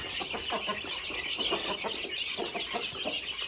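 Chickens at a farm near a water dish cluck in a quick, repeated series of short calls, moderately close and fairly quiet, with no talking.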